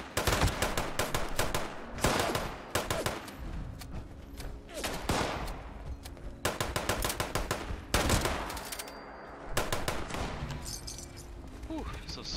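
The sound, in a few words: assault rifle gunfire in the video game Fallout 76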